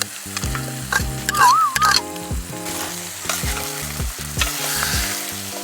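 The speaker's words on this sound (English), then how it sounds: "Stir this to combine and then add my meat" Meat hitting hot oil for Nigerian street-style asun rice gives a strong crackling sizzle, stirred with rhythmic scrapes and knocks of a spoon against the pan, close and loud with music playing underneath.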